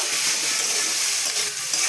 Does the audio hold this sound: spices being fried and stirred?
yes